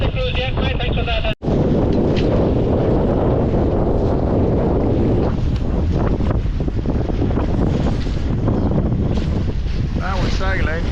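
A boat sails on the river toward St Katharine Docks, with heavy wind buffeting the microphone and a constant rushing roar of water and motion, while people talk faintly underneath.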